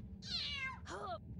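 Two drawn-out meows from the cat Mrs. Norris in a Harry Potter video game, clear and isolated over a quiet low background hum.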